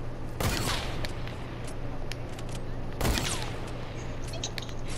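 Sniper and grenade launcher fire in a video game, heard as two loud, sharp shots a few seconds apart over a steady low hum and scattered quieter effects.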